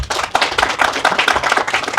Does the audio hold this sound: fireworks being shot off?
no